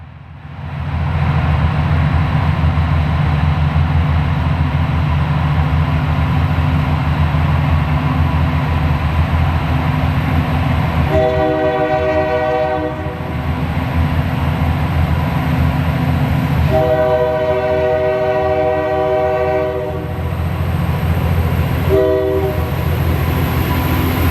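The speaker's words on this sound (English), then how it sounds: "We return to our train running in heavy dynamics as the crew reaches milepost 727." Portland & Western freight train in heavy dynamic braking, its locomotive engines roaring loud and steady throughout, with a multi-tone horn sounding in three blasts, the longest in the middle, beside a forest highway.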